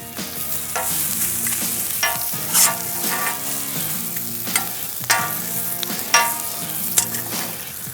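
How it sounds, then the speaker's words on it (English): Potatoes and sausage fry in a pan for a breakfast quesadilla, giving a loud, steady sizzle broken by several scraping stirs and flips. "Gonna flip these potatoes over."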